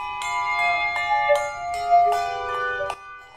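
Handbells ring in a quick, bright sequence of several overlapping strikes as ringers pass them between one another, close and clear with lingering tones and no talk.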